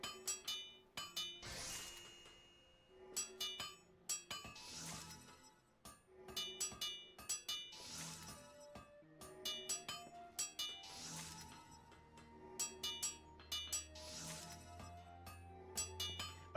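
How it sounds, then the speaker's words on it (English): Hammering during quick crafting synthesis of copper and tin ore in Final Fantasy XIV: repeated bright metallic clinks and pings in quick bursts, spaced every couple of seconds, with resonant ringing tones in between. "And here you can watch me hammer."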